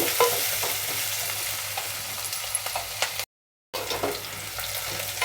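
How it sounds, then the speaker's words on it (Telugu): Onions and curry leaves frying in a pan give a steady broadband sizzle with scraping stirs, briefly cutting to silence midway before the crackle resumes. "రెండు రెమ్మలు కరివేపాకు ఉల్లిపాయలు బాగా వేగనిద్దాము పచ్చివాసన పోయేదాకా"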